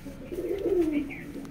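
A Rampuri pigeon coos in a loft in Howrah: one drawn-out, rolling low coo swells and fades, with faint higher chirps behind it and no voices.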